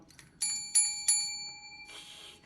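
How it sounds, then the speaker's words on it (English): A small hotel bell with a red plastic base rings three times in quick succession, each bright metallic ding sustaining and overlapping, followed by a brief rustle. "was this adorable little hotel bell with the red base"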